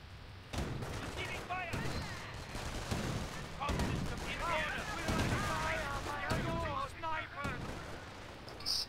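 Rapid bursts of anti-aircraft gunfire from an Ostwind flak tank in a World War II strategy video game, thudding shots repeating throughout amid layered battle noise, with someone talking over the shooting.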